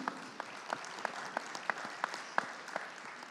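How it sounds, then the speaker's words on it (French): An audience in a conference hall claps at a convention opening, a steady patter of applause with sharper individual claps standing out, fairly faint and distant throughout. "la salle vous entend et on vous applaudit"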